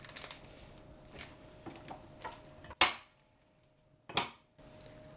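A tortilla press comes down on a gyoza wrapper, giving a few sharp wooden-metal clacks and thumps with quiet handling rustles between them, close and isolated, and no voices.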